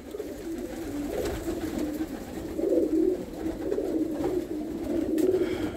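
Pigeon cooing in a loft among a keeper's birds, low throaty coos repeating steadily for several seconds with some overlapping calls and faint background movement.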